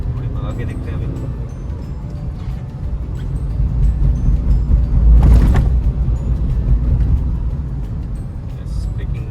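Tata Punch Pure Base small car accelerating on the road, a low engine and road rumble swelling in the middle of the run and easing off, heard from inside the cabin.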